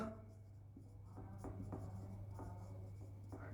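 Pen strokes on paper as a note about invalid votes is written in a quiet room, a few distinct scratching marks over a faint steady hum, close and soft.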